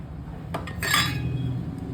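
Peanuts and spice ingredients for a Gujarati stuffed brinjal masala tipped into a mixer jar, heard as a short clatter and clink of pieces hitting metal near the middle, close and moderately loud over quiet kitchen background.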